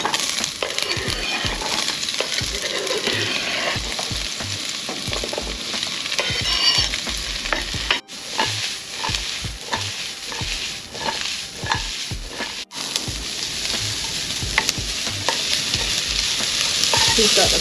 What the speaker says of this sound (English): we've got chorizo and onion in the pan with a little bit of olive oil